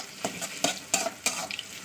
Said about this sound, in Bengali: দেখতে পাচ্ছেন আমার পেঁয়াজটা লালি হয়ে গেছে, মানে ভাজা হয়ে গেছে